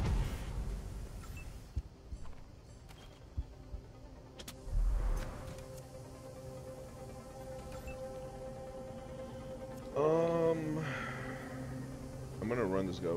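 Truck in Wasteland 3 rumbling through a combat scene, a low engine hum beneath game effects, with sharp revving swells near the end and a few clicks and thuds scattered throughout.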